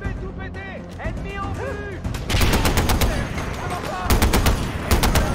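Rapid machine-gun fire in the video game Far Cry 4: loud bursts of fast, evenly spaced shots that grow heavier midway, mixed with whistling game effects and a player talking over them.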